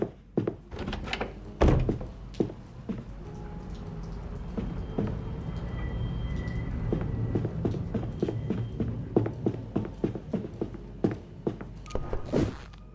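A locked door is tried in the detective game The Darkest Files: a series of heavy, close thunks and rattles, irregular at first and then coming in a quicker cluster near the end, with no talking.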